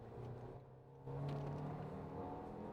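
Engine of a 2024 Toyota Grand Highlander Limited with an 8-speed automatic, a steady interior hum that swells into a louder, sustained accelerating drone partway through.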